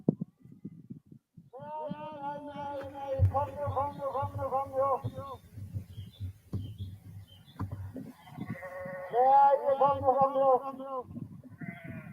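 Sheep bleat repeatedly on a foggy farm, several overlapping wavering calls in two clusters, close and clear, while someone talks underneath.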